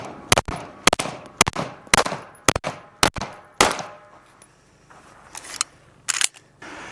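Handgun shots ring out on an outdoor shooting stage as the shooter moves forward. About ten sharp, loud cracks come in quick irregular pairs and strings, each followed by a short echoing decay, with a brief pause before the last few.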